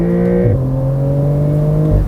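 A 2022 Porsche 911 GTS Cabriolet at full throttle, its engine note loud and close, climbing through the revs, dipping briefly at an upshift, then pulling hard again before a final drop as the next gear engages.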